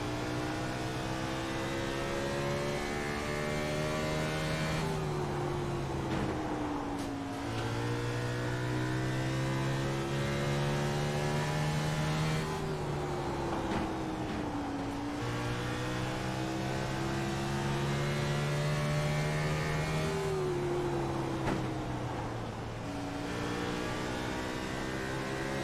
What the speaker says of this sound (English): Let's see what the car sounds like while he's going around the track.